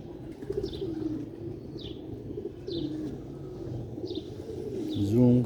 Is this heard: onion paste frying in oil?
no